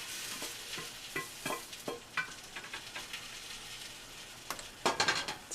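Steak searing in a pan, a steady hiss and crackle of sizzling with scraping and clinking from utensils and a louder flare of spatter near the end.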